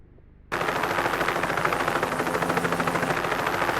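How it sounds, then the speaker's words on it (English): Harold the helicopter's rotors whir in, bursting in abruptly after a brief quiet start and then holding a loud, steady, rapid chopping pulse throughout. "Then James heard a whirring noise. It was Harold the helicopter."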